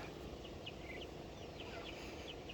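Month-old Wyandotte chicks in an outdoor run enclosed with chicken wire, giving soft, scattered high chirps and clucks over a steady background hiss.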